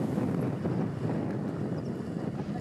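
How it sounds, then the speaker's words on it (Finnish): Strong wind blows across an exposed fell in Swedish Lapland, a continuous low buffeting roar hitting the microphone with steady gusts and no talk. "Aika reilus tuuli koko ton nousun tänne"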